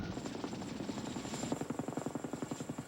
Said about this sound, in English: all of a sudden the helicopter's going around and around and around